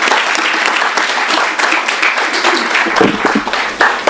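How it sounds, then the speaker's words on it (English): An audience at a poetry reading applauds to welcome a poet, a loud, dense, continuous round of clapping from a full room that carries on unbroken. "please help me welcome Helen Yeoman Shaw."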